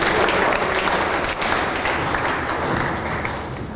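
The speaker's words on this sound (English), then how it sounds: "Please welcome him with a round of applause." Sustained, dense applause from an audience welcoming the Minister for the Northern Region at a live news event in Ghana, loud and steady throughout before easing slightly at the end.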